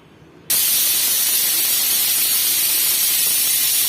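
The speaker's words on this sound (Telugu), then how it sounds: "త్రీ ఫోర్ విజిల్స్ వచ్చాయి ఇప్పుడు స్టవ్ ఆఫ్ చేసుకుందాం" A pressure cooker on the stove, cooking a goat tripe (boti) dish with mint, suddenly lets out a loud, steady hiss of escaping steam. It starts abruptly after a quiet moment and holds at full strength to the end.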